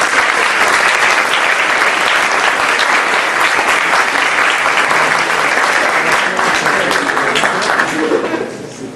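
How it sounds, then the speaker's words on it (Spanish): Loud, dense audience applause fills a hall at a professional actuarial event, sustained steadily for several seconds with a few chuckles mixed in before it starts to fade at the end. "Le vamos a darle un fuerte aplauso a Francisco."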